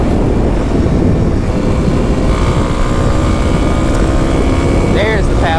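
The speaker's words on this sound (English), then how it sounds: "Now let's go ahead and downshift a couple gears." A 2021 Kawasaki KLX300 dual-sport motorcycle engine drones loud and steady while riding, wind rush heavy over it, with a brief rising rev near the end as it downshifts and pulls.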